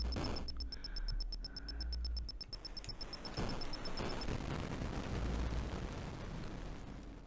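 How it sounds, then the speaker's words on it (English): Crumbly explosions from the Atari 8-bit game Computer War, with a short beeping tone at first, then loud low rumbling bursts that crackle and break apart, filling the second half with dense noisy debris. "Such a good explosion sound. It's like a crumbly explosion sound."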